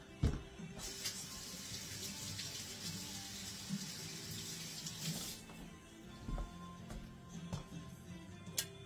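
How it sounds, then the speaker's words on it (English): Running tap water rinsing a lobster chunk at a kitchen sink, a steady hissing stream for several seconds that cuts off, followed by a few light knocks and drips. "So I'm going to rinse that off because you don't really want to eat that"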